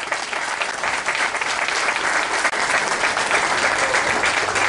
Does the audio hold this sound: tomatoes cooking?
no